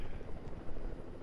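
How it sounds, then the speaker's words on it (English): Helicopters in the Fortnite video game: a dense, rapid chopping rotor thump with broad whooshing noise, steady and fairly loud throughout the short moment. "2 helicopters."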